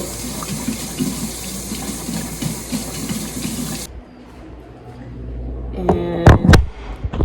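Dishes are washed under a running kitchen tap: a steady close gush of water that cuts off, then clinks and knocks of dishware with a few splashes.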